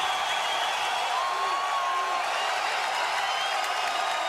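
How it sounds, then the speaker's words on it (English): A UFC 22 arena crowd cheers at a championship fight between Tito Ortiz and Frank Shamrock, a continuous distant roar of voices with scattered whistles, steady and unbroken throughout. "This crowd is loving it."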